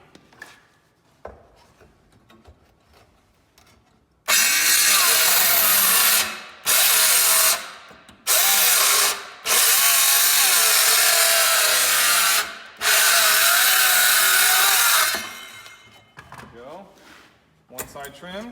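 A power tool trims scrap barn wood for a birdhouse in loud whining bursts separated by short pauses, with quiet handling noise and speech before and after the cuts.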